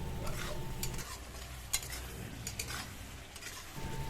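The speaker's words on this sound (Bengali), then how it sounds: "মশলাটা তেল ছাড়া পর্যন্ত কষিয়ে নেব" Spice masala being stir-fried in oil for an egg curry, a low continuous sizzle with light scraping and stirring clinks throughout, fairly quiet and without talk.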